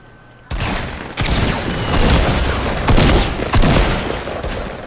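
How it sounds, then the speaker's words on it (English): Sustained rapid gunfire in Fortnite, shot from up in a tree, begins abruptly and runs as loud continuous automatic bursts with a few surges, close and dense. "I'm shooting them from on top of the tree"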